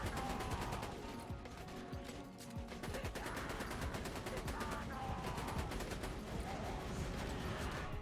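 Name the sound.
turrets and guns shooting a boss in a video game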